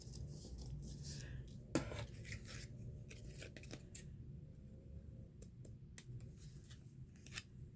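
Scissors snip through a paper tab for a junk journal cluster, a crisp cut standing out against soft rustling and handling noise close by.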